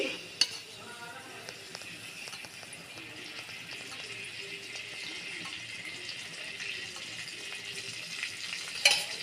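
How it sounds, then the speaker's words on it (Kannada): Curry leaves tempering in hot oil for a homemade tomato chutney give a continuous crackling sizzle at moderate level, with occasional clicks of a spoon against the pan. "ಒಗ್ಗರಣೆ ಮಾಡುವ ಕರಿಬೇವು"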